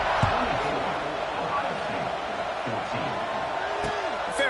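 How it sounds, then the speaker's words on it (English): A college football stadium crowd keeps up a steady, broad roar before a kickoff, while a commentator talks over it throughout. "this crowd now ready to get behind them."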